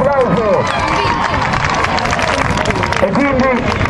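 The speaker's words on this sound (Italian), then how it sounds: "Pronti con l'applauso per chi si è classificato al secondo posto" Crowd at a Pariglias horse-riding competition applauds and cheers for a second-place team, clapping mixed with shouts and loud hubbub, close and continuous throughout.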